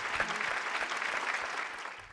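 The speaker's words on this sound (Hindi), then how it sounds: "जोरदार ताली से स्वागत कीजिए जेंट्स का।" Studio audience at a televised couples competition show gives steady, dense applause to welcome contestants on stage, filling the whole moment with loud, even clapping and no voices over it.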